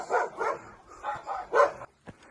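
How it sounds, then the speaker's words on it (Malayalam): A dog at a house uphill in a village at Kanjikuzhi, Idukki, barks in a run of several rough, mid-distance barks, then falls quiet apart from one short yip. "ഇപ്പം മുകളിലത്തെ വീട്ടിലും പട്ടിയുണ്ട് കേട്ടോ"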